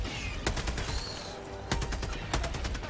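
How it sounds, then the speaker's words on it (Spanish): Machine gun fire in the video game Helldivers 2: several sharp, loud bursts ring out at irregular intervals over a steady rumbling battle backdrop, with no talking. "hay una ametralladora"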